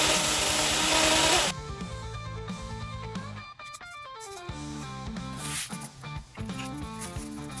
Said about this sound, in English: Then I turn my drill into a lathe and using sanding block get the final shape.